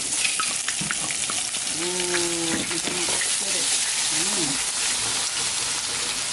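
Ingredients frying in hot oil for a traditional Balinese dish, a steady dense crackling sizzle that holds throughout, close by, with people speaking softly underneath.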